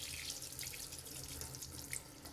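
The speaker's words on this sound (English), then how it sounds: "So we just wash this in the running water" A tap runs steadily into a sink, rinsing a part from a Philips air purifier under the stream with a soft continuous splash and patter, close and fairly quiet, with no talk.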